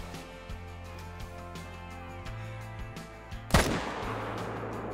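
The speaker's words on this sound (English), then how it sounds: "Let's shoot that guy." A single loud hunting rifle shot rings out in the Call of the Wild hunting game, its sharp crack and rolling echo breaking over a steady low ambient hum by a lake where blacktail deer graze.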